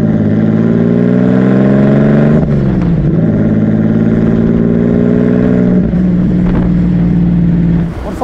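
A 1936 Alvis Silver Eagle's supercharged 4.3-litre inline-six engine revs loud and close, its deep throaty roar rising and falling in steady swells before cutting off near the end.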